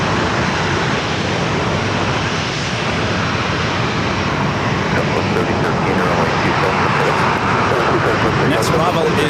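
A Southwest Airlines Boeing 737-800 bound for Phoenix at San Diego airport gives a loud, steady broadband engine roar that holds close throughout, with talk likely mixed in.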